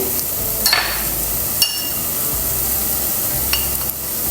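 Ground cumin, pepper and coriander are stirred into a bone and snake gourd curry in a pan, with a gentle sizzle throughout and a few sharp metallic clinks of the spoon striking the vessel.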